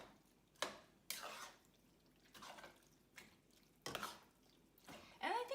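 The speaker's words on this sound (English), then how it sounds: "I'm still using a spatula because I'll still break up whatever turkey is still not broken up." A spatula scrapes and chops at ground turkey in a pan, making several short, soft scraping strokes separated by quiet pauses, faint and close.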